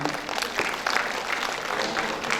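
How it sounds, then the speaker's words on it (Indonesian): Applause from a medical conference audience in Banten fills the room, steady scattered clapping throughout with no voices on top. "Kita tepuk tangan."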